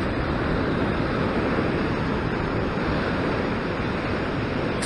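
Ocean waves surge against a rocky sea shore in an unbroken roar, with wind noise mixed in and no voices.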